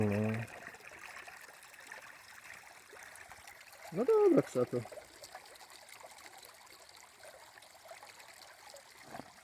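Water sloshing and trickling as a gold pan is swished while prospecting for gold and gemstones in Kashubia, soft continuous liquid movement under brief conversational speech from nearby people.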